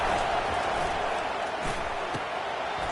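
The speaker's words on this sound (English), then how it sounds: "Decibels rising as the crowd gets behind this defense on 3rd down" Stadium crowd noise in a college football video game swells into a steady roar on a third-down defensive stand, with a commentator speaking over the din.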